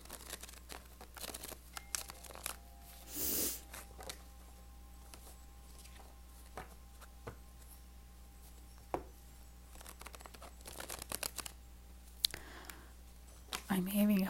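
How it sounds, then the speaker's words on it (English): Tarot cards are shuffled in scattered bursts of soft riffling, flicking and crinkling, close and fairly quiet, with brief pauses between handfuls. "I'm having a hard time shuffling the cards"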